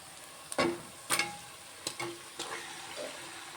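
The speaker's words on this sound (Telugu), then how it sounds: "ఇప్పుడు నేను ఇందులో చికెన్ వేసుకుంటాను" Chicken pieces dropped into a pan of hot oil with fried onion and ginger-garlic paste, several distinct splashy sizzling bursts close up, each fading into a soft continuous fry.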